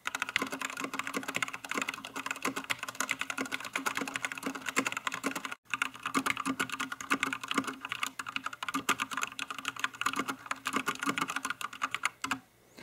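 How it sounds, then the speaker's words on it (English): Steady, rapid keystrokes on an XVX MK61 60% compact wireless mechanical keyboard with yellow switches, continuing close-up and evenly throughout with only a momentary pause midway, no talking. "So let's also do a quick typing test."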